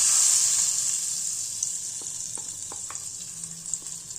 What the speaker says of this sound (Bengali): এবার এটা আমরা দিয়ে দেবো এই দইয়ের ঘোলটার মধ্যে।